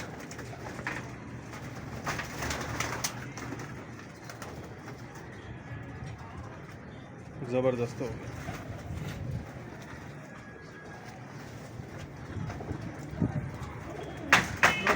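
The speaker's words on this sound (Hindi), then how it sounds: "ये देखें कबूतर कैसा है, चिट पड़ी हुई पैर में इसके" Pigeons coo softly at a Lahore bird-keeping spot, low rolling calls repeating in the background amid rustling and faint wingbeats, with someone speaking briefly.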